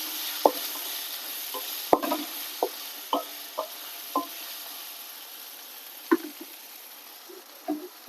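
Tomato and chicken masala sauté in a pan under a soft sizzle, punctuated by about ten distinct scrapes and clacks of a spoon stirring at an irregular pace.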